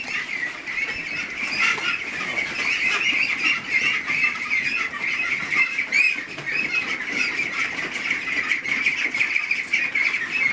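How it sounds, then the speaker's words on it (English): A flock of ducks on a homestead squawks and quacks nonstop up close, a dense, agitated chorus with no talk. "So that's the ducks."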